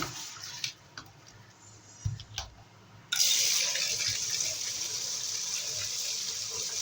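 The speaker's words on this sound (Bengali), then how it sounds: "শাকগুলো ভালো করে বাছা হয়ে গেছে ধুয়ে নেব" Taro leaves being rinsed under running water, with a steady tap-like gush starting partway through after a few quieter handling knocks and splashes, continuing alone at moderate level.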